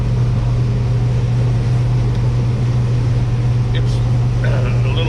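Combine harvester, a model smaller than a 660 with about half the horsepower, running during corn harvest: a loud, constant engine drone with a strong low hum filling the whole stretch, steady throughout.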